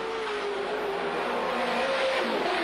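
A Holden Commodore touring car at Bathurst powering through a turn, its engine a loud sustained drone with a gradually falling pitch as it carries speed through the corner.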